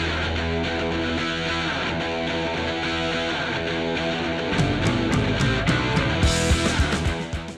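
A replay of a song with a full, distorted rock band playing loud and steady. The drums then punch out unison double-stop strokes in a quarter-note-triplet figure, with crashing cymbals and fills toward the close.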